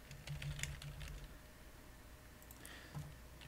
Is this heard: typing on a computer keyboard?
yes